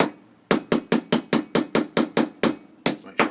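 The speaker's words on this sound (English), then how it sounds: "I'm just going to tap these in." A hammer taps wooden dowels into tightly drilled holes: about a dozen sharp, evenly spaced knocks at close range, coming quickly one after another after a brief quiet start, with no voices.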